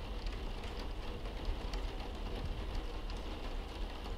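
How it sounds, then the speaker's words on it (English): Rain falls steadily in a Roblox video game, a soft, even, continuous hiss of drops with low rumble underneath and no voices. "A lot of rain."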